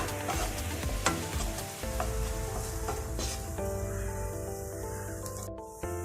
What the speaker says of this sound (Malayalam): ഇനി നല്ലോണം ഒന്ന് മിക്സ് ചെയ്യാം.